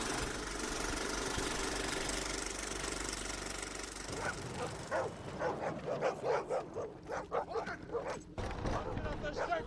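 Dogs bark in a sound effect of a train arriving at Auschwitz, a run of loud repeated barks and yips following a stretch of rumbling engine noise, with voices mixed in.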